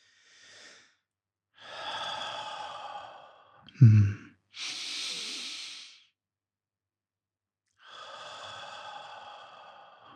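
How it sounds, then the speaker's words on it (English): Deep belly breathing demonstration during a mindfulness power breathing exercise: slow, close, airy inhales and long exhales separated by pauses, with one short forceful snort-like burst in the middle. "you will breathe much more easier and you will breathe much more deeply"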